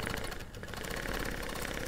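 A Gammill Vision 2 longarm quilting machine stitching in regulated mode at 12 stitches per inch, a rapid steady mechanical whir with fine rhythmic pulsing, close up with no voices.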